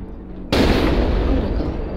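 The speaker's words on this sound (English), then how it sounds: "you can keep firing the AC20 with a nice cooldown until you refresh" An AC20 autocannon fires in the MechWarrior Online game with one sudden loud blast that swells into a sustained, rumbling roar, close and heavy.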